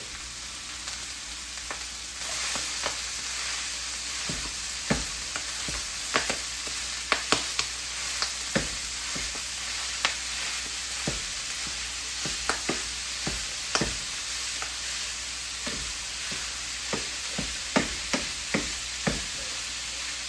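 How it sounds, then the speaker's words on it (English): Hot oil in a pan spatters and pops steadily while chili ingredients fry, with a constant sizzling hiss and sharp, irregular crackles spread across the whole stretch, close and fairly loud with no voices. "why is this oil exploding"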